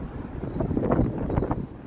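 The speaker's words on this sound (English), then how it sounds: "There's the train line heading across the Lake Street Bridge." A Chicago Green Line elevated train rolls across the Lake Street Bridge over the Chicago River, a steady rumbling clatter of wheels on rails with faint squeals, moderately close and continuous with no talking.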